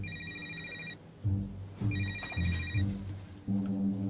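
A telephone rings in repeated bursts, two clear electronic rings separated by a pause, loud and close, with low background sounds beneath.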